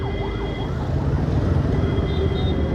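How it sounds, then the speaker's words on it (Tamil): A police car or ambulance siren wails on a road, a rising and falling tone heard from a moving motorcycle over loud engine and wind rumble. "போலீஸ் வண்டியா ஆம்புலன்ஸா?"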